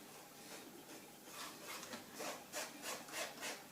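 Rhythmic scraping and rubbing as oil paint pigment is worked into its binder with a knife or muller, strokes speeding up and growing slightly louder, close and steady with no talking.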